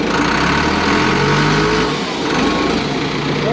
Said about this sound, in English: You hear that motor pulling down, that's that direct drive.